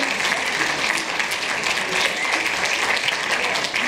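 An audience at a film festival closing ceremony applauds in a steady, dense, loud wash of clapping that continues throughout without a break.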